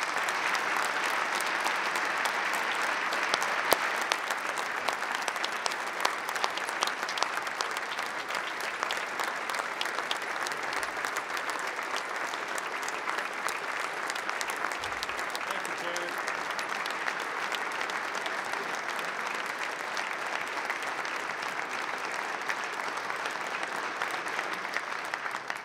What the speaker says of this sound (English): And that's, you deserve applause.